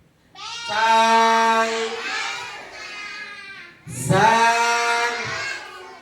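Two long, wavering bleats from sheep in a Yemen pasture ring out loud and near, each lasting a couple of seconds and separated by a brief pause.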